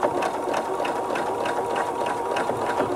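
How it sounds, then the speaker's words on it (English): A sewing machine stitching sweatshirt fabric runs in a steady, close, continuous whirring hum with a fast regular needle rhythm, no voices present. "And then just stitch a little ways above that fold line."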